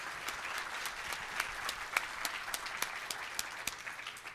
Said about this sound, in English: give our panel a nice round of applause